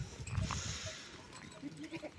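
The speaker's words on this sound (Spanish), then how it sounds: "Y después tengo una chiva alpina, que es la que me ha quedado" An Alpine goat on a farm gives a short, nasal bleat near the start, close by, over a steady background hum and some faint voices.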